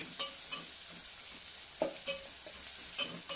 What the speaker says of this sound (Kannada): ಇದು ಸ್ವಲ್ಪ ಚೆನ್ನಾಗಿ ಆಯಿಲಲ್ಲಿ ಫ್ರೈ ಆಗಬೇಕು, ಮೆತ್ತಗಾಗಬೇಕು ನಮ್ಮ ವೆಜಿಟೇಬಲ್ಸ್